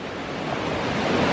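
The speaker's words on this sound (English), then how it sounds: "I'm in some pretty fast flowing water here" Fast-flowing river water on a trail to a waterfall in Costa Rica rushes as a steady, broadband roar, close and continuous with no voices.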